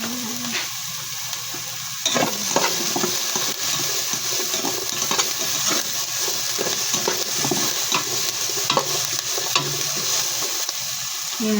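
Sardines simmer in coconut milk in a pan while being stirred, giving a continuous bubbling sizzle with intermittent scraping and clinking stir strokes close by.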